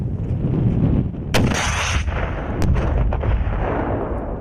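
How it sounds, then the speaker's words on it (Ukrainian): A sharp blast from a grenade launcher cracks out over gusty wind noise, followed by a fainter second report in open outdoor air. "Стріляли із гранатометів. Вистріл!"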